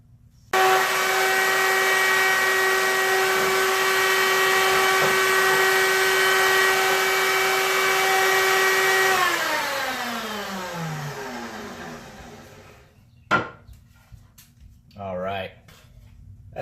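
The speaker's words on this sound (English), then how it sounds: "We're going to put it back through the router table, get those edges rounded over again." A router table rounds over the edges of a pallet-wood longboard with a loud, steady high-pitched whine that holds for several seconds, then spins down as the bit slows, followed by a couple of short bumps near the end.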